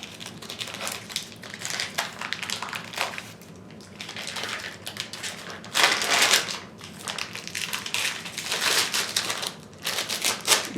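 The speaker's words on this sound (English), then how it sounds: "So it'll come in this plastic package with scissors or a sharp blade. You can kind of cut it open" A plastic package of tempeh is cut open with scissors or a sharp blade. Close, crisp crinkling and snipping crackle on and off throughout at moderate volume, with no talk.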